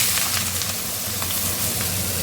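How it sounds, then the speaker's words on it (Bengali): Dried chilies and cumin fry in oil in a wok, giving a steady, even sizzling hiss that holds at one level throughout. "ভাজার জন্য কড়াই বসিয়ে দিয়েছি, দিয়ে দিচ্ছি তেল, দিয়ে দিচ্ছি শুকনো লঙ্কা, আর দিয়ে দিচ্ছি জিরে হালকা করে"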